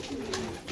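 A pigeon gives a brief, quiet coo, a soft throaty call heard close and alone.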